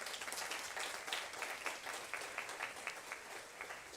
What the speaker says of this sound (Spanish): Un fuerte aplauso también para él, por favor